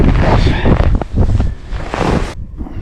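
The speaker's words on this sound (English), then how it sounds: "she's pretty windy right now" Strong wind on the ice in extreme cold roars and buffets loudly against the microphone, gusting unevenly throughout with a brief drop near the end.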